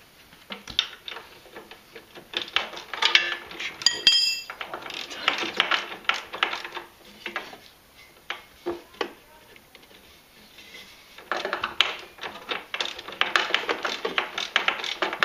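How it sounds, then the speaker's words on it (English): A 19mm wrench ratchets on the bolts of a ProClimb front bumper, with quick clicking bursts repeating in uneven runs, close and fairly loud, separated by brief pauses. "we got a 19mm wrench that is fitting in there"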